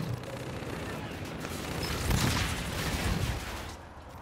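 Gunfire in Call of Duty: Infinite Warfare hardcore team deathmatch multiplayer on the Breakout map, a dense rattle of shots that swells in the middle and fades near the end, fairly faint under the game's ambience.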